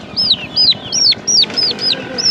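A Diamond turkey gives a quick series of sharp, high rising calls, about seven in a row, close and clear over a low background hum at a poultry market.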